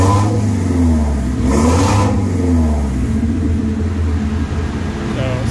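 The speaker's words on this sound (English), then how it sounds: "And we'll rev it up one time here." A go-kart engine idles loudly nearby, then revs up once with a rising and falling whine before settling back to a steady low drone.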